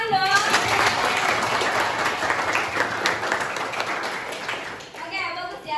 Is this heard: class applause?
yes